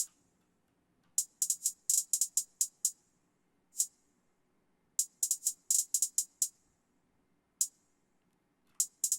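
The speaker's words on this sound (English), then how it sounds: "Then we have this hi-hat," Crisp, bright hi-hat ticks in quick bursts and rolls, separated by short gaps, sounding alone and fairly quiet.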